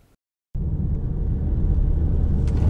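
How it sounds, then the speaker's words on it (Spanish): A 2017 Renault Scenic Energy dCi 130 performs a moose-test evasive maneuver at 73 km/h. After a moment of silence, a loud, steady low rumble of road and engine noise starts abruptly and holds, with no voices. "Hemos superado la maniobra de esquiva a 73 km por hora."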